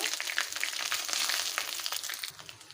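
Ginger-garlic paste fries in a pan for a rohu-and-poppy-seed curry, a steady crackling sizzle close up with a few soft spatula scrapes, fairly quiet and with no talking.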